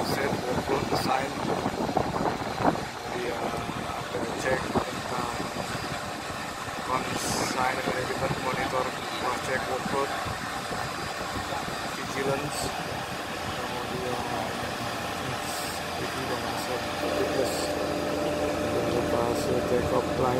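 An Airbus ACH135 helicopter engine whines and hums steadily during taxi out, with a constant droning roar throughout and someone talking over it.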